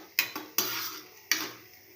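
Onions and curry leaves being stirred in a pan for ragi semiya upma, three or four sharp metallic scrapes and knocks of a spoon against the pan with a soft hiss of frying between them, close and fairly quiet.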